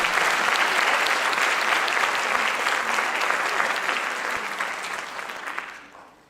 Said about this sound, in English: Can we please get another round of applause for our extremely talented